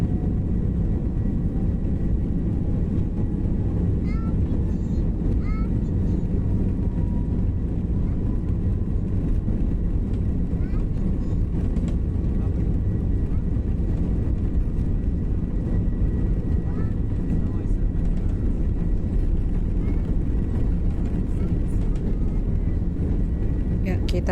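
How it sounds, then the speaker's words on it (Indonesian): Jet engines of a Qantas airliner departing Sydney roar steadily and loudly from inside the cabin, a dense continuous rumble with a faint whine that holds without break throughout. "Saya kedengaran ya dari suara mesinnya sudah mulai deru-deru alias siap untuk terbang"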